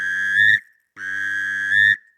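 A whistle-style duck call imitating a mallard drake sounds two sustained, reedy tones, each just over half a second to a second long, separated by a brief pause, close and clear.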